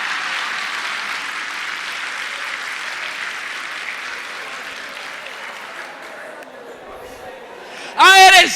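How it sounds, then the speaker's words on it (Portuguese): Church congregation applauding steadily for several seconds, a broad even wash of clapping that fades out, followed by a voice speaking loudly at the end. "Agora você pode aplaudir, porque eu não estou falando de você."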